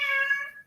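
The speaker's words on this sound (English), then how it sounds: "this is my cat." A hungry pet cat lets out a single clear meow, close and fairly loud, tapering off after under a second with no talking.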